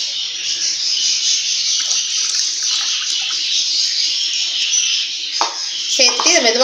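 Two cups of water pour steadily into a pan in a continuous hiss-like stream, close by, while making gulab jamun, ending with a brief voice at the close.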